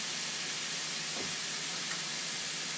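Steady broadband hiss of steam escaping from the back of a George Foreman GR144 nonstick family-size grill cooking burgers and sliced onions, soft and continuous with no talk over it.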